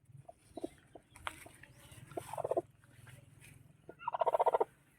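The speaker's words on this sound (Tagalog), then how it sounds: "Tignan natin yung sinasabi kong naglilimlim na BPR, idol." Broody Barred Plymouth Rock heritage hen sitting on eggs, giving soft scattered clucks that build into two louder rapid trilling cackle runs, close and clear over a faint background hum.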